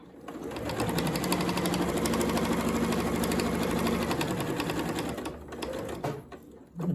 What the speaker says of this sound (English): I'm sewing this with a 1/4 inch seam allowance, and I'm going to backstitch here